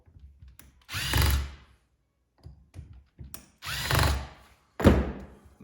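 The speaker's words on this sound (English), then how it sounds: "Take the 3 Phillips screws out of each carburetor bowl" A power driver spins Phillips screws out of the carburetor bowls on a 1981 Honda CB750, giving three separate close whirring bursts with faint clicks and handling noises in the quiet gaps between.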